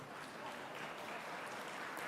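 An audience claps steadily at a national conference of parliamentary and legislative committees, a dense, even wash of applause filling the whole stretch at a moderate level.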